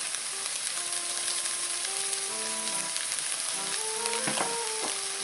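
Raw sausages sizzle in a pan as they warm through, a steady, moderately quiet crackling hiss with scattered pops. No one speaks.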